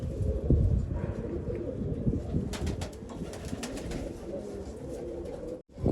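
Low, throaty cooing of a pigeon held in hand close by, mixed with rustling and handling noises.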